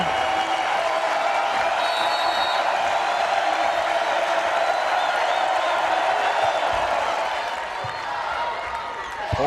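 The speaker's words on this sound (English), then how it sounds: "So crowd trying to get into it here." A volleyball arena crowd at an NCAA women's tournament match, Utah versus Nebraska, keeps up a dense, steady roar of cheering and applause throughout, loud and continuous, easing slightly near the end.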